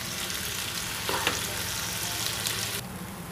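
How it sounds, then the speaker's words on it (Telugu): Tomatoes and peanuts frying in oil in a pan give a loud, continuous close sizzle, with a brief stir or clink partway through before the sound thins out near the end. "ఆయిల్ లోనే వీటిని కూడా ఫ్రై చేసుకుంటున్నాను"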